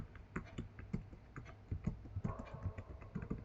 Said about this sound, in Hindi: तो अब यहाँ से देखिए टाइपिंग करना शुरू करेंगे।